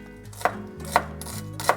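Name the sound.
chopping fresh dill with a knife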